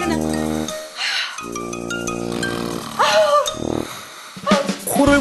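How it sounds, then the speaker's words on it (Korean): A man snores in bed, loud rasping buzzing breaths with short gaps between them, suggesting interrupted breathing during sleep. "시끄러운 코골이도 문제지만 이렇게 말없는 코골이 또한 매우 위험합니다"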